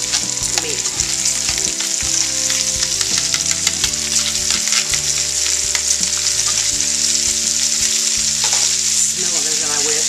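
Carrots and onions, marinated with beef for a bourguignon, sizzle loudly in a preheated pot, a continuous crackling fry with occasional stirring scrapes and faint background music.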